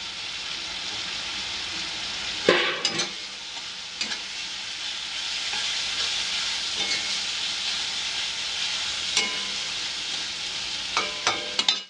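Chopped tomato sizzling in frying masala for a Bengali prawn malai curry, a continuous loud hiss with intermittent clatters of a spoon stirring against the pan.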